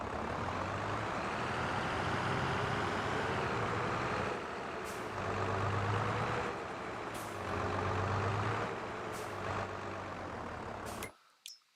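Tractor in Farming Simulator with a Fendt machine, a steady loud engine drone that swells and eases as it drives, with a few sharp clicks and an abrupt cutoff at the end, no talk.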